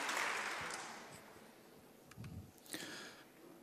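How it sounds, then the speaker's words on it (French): Lecture audience applauding a speaker as he is introduced: faint clapping that is strongest at first and dies away, leaving a few scattered claps and small noises. "je vous demande d'applaudir Guido"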